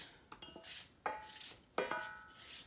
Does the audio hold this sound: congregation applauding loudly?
no